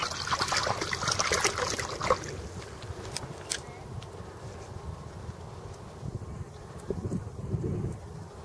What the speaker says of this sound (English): Get to wash this off a little.